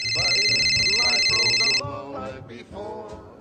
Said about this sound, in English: We're not supposed to be getting phone calls right now.